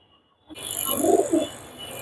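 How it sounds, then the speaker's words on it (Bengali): A pair of breeder pigeons, Birmingham Roller, Teddy or Pakistani high-flyer types, give a short close coo that starts abruptly after a moment of quiet. "এই যে এক পেয়ার কবুতর দেখাচ্ছি আপনাদেরকে"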